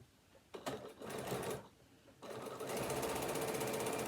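A sewing machine stitches a tablet holder in short bursts, a brief run, a pause, then a longer steady whirring stretch of rapid needle strokes, close and fairly quiet, with no voices.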